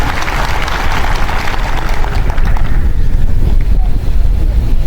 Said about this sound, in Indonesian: Tepuk tangan untuk Anda sendiri